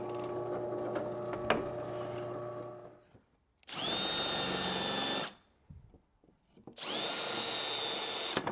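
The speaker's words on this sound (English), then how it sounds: "I'm going to do is drill 8 holes on the drill press, 2 on each one of the sides" Drill press boring holes into wood, two separate bursts of loud high-pitched motor whine and cutting, each about a second and a half long, with quiet workshop handling between them.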